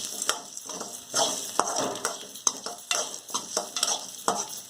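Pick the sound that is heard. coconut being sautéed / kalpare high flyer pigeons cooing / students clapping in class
coconut being sautéed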